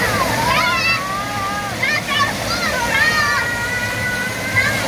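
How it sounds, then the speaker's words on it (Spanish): A small waterfall splashes into a swimming pool at a public bathing spot in Santa Ana, El Salvador, a constant loud rush of water running throughout while people, including children, talk and shout over it. "Es una cascadita, va."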